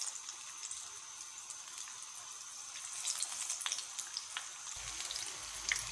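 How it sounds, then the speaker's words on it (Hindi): Eggs fry in a kadhai with a faint, steady sizzle and light crackling that continues throughout, with no voices. "सारे अंडे हम डाल चुके हैं कढ़ाई में। अब हम इन्हें अच्छी तरह से फ्राई करेंगे।"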